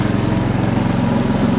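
A 4-stroke gas single or dual stage snowblower engine idles nearby, a loud, steady low chugging rumble with even rhythmic pulses and no talk.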